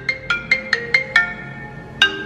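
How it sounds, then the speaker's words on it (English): A phone ringtone for an incoming call plays alone: six quick, bright melodic beeps in a steady rhythm, a short pause, then one more beep, fairly close and clear. "I'm getting a call."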